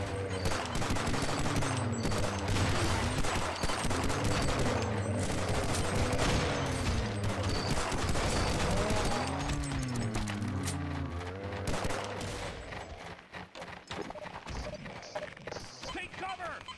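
A revolver fires in a video game amid a loud, sustained burst of gunfire and shooting, with other game sounds underneath throughout.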